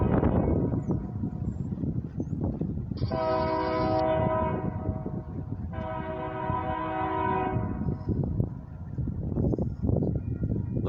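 An eastbound CFE mixed freight and steel train approaches a railroad crossing on a windy afternoon, its horn sounding in two long blasts over steady rumbling wheels and rushing wind.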